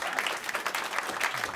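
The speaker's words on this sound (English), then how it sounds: "I do deserve that clapping." A comedy club audience breaks into a short, dense burst of applause for a stand-up comedian, the clapping close and continuous with no talk over it.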